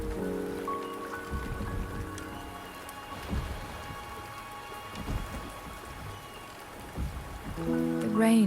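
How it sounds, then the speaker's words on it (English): Steady rain falls in a mountain setting in the game Wuthering Waves, a constant hissing downpour with a low rumble and faint musical tones beneath, no talking. "The rain is subsiding,"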